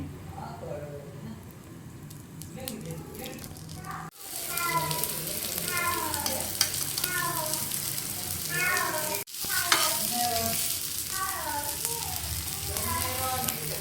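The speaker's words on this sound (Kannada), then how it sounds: "ಎರಡು ಕಡೆನೂ ಬೇಯಿಸ್ಕೋಬೇಕು ಇದಕ್ಕೆ ತುಪ್ಪ ಹಾಕ್ಕೊಂಡು ಬೇಯಿಸ್ಕೋಬೇಕು" Onion paratha cooking in ghee on a pan gives a steady, moderately loud sizzle throughout, with brief breaks where the sound cuts out, and no talking.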